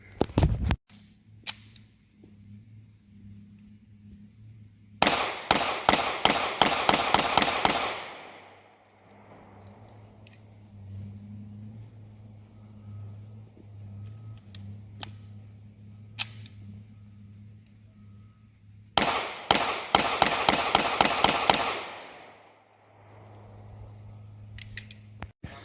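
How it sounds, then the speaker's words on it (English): Tisas 9mm Tank Commander pistol fired rapidly at an outdoor range from about 10 yards, two sharp bursts of quick closely spaced shots, each string of several cracks followed by quiet with faint background noise. "So we'll do some rapid fire from about 10 yards and see how fast I can put them on there"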